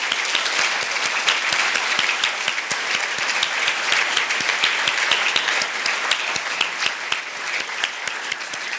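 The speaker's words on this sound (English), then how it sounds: "So please join me in a round of applause for Amy." Sustained, loud applause from an awards ceremony audience fills the room evenly for about nine seconds, dense and steady with no voices over it.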